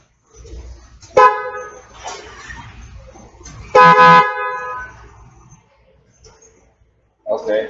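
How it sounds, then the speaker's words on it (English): A car horn on a vehicle, sounded by bypassing the switch with a wire across relay terminals 30 and 87, gives two loud, sharp honks a few seconds apart, with a third starting at the end, over engine rumble and some voices. "see if I can get the horn to honk by connecting it to terminals 30 and 87"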